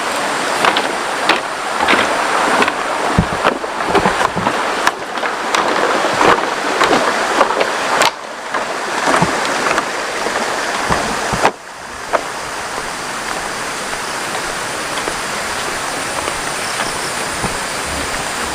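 A small stream in the Cianjur countryside rushes steadily over rocks, a continuous broadband wash of flowing water heard up close for the whole stretch, with a few brief knocks and shifts along the way.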